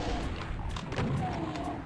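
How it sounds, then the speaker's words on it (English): Shotgun blasts in Doom II on a fast-monster Ultra Violence run, several sharp booming shots in quick succession over busy game noise. "I'm gonna have to shotgun this Walmart enthusiast down"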